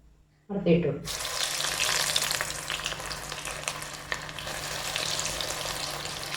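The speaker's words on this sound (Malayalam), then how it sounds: "ബാക്കിയുള്ള കൂടി ഇതുപോലെ വറുത്തെടുക്കുക." Banana fritters (pazham pori) fry in a shallow pan of oil, a steady close sizzle that bursts in suddenly after a brief quiet start and crackles on throughout.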